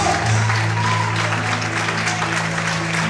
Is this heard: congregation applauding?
yes